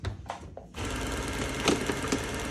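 A felt belt on a belt sander buffs a butcher knife blade, a steady close whirring rush starting after a few brief scuffs, with small surges as the blade presses in.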